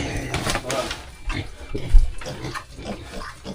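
Grunts from a fat pig, a series of low snorts and grunts spread across the moment, fairly close, mixed with background voices and farmyard noise.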